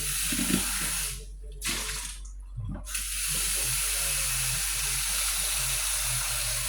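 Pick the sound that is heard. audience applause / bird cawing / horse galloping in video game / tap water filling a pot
tap water filling a pot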